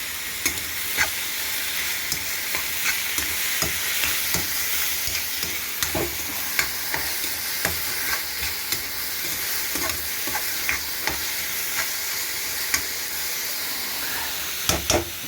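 Spinach curry sizzles in a pan on a gas stove while a spoon stirs it, a steady frying hiss broken by repeated scraping clicks and taps, close by with no talk.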